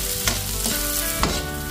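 Garlic, onion and ginger sautéing in a little cooking oil, a steady close hiss of frying with a few brief stirring scrapes and clicks.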